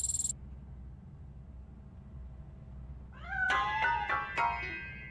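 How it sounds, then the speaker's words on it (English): A cat meows from inside a piano in the video game RoboCop: Rogue City, several short high mewing calls in quick succession after a faint lull, fairly close with no talk. "That cat must be hiding inside."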